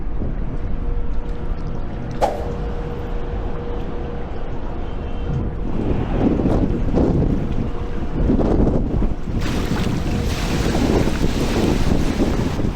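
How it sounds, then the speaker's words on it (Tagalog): Strong wind roars and buffets the microphone continuously, with louder gusts toward the end and no clear talking. "Ayan na, lakas ng hangin."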